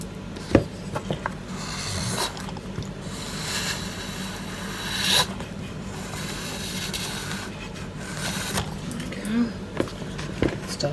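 A spatula scrapes chocolate ganache around the side of a cake, giving soft repeated rubbing and scraping strokes at close range, with a few small knocks and faint background noise.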